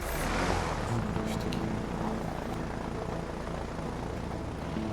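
A small plane's engine in the video game A Way Out drones steadily, a loud continuous roar with a rumbling low end that holds throughout without pause.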